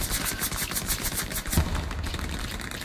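Rapid automatic gunfire in a video game battle at an outpost, a fast, evenly spaced stream of loud shots with a heavier thump partway through, continuing without pause.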